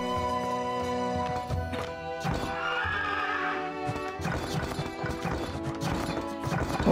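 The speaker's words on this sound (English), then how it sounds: "All these horses. What is the deal with all these horses?" Horses in the 0 A.D. strategy game whinnying repeatedly over a busy clatter of hooves, with overlapping calls and clip-clop mixed with scattered game sounds, loud and close throughout.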